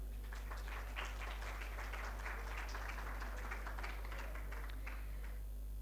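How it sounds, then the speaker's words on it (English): An audience at the inaugural ceremony of a university conference applauds, a soft, distant patter of clapping that holds steady for several seconds under a loud, constant electrical hum before fading out. "A huge round of applause, please."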